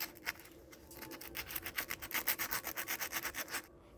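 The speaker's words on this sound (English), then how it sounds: "Now I've sanded it down, got rid of the lumps and bumps." Rusty, pitted car spare wheel from a Citroen Xsara Picasso being sanded with abrasive, a quick run of rhythmic scraping strokes growing louder and faster before stopping abruptly, close up with no talk.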